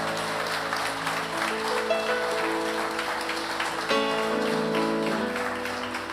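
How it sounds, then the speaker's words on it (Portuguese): A church congregation applauds during a worship service, a steady wash of clapping over sustained music, with a faint voice now and then. "Você vai até aplaudir Jesus"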